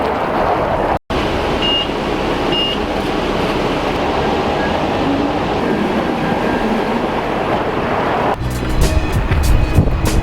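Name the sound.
riding a city bus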